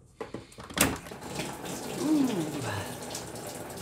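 Coolant pouring and gushing from a disconnected hose under the expansion tank of a BMW E31 850i, a steady close liquid stream after a sharp clunk.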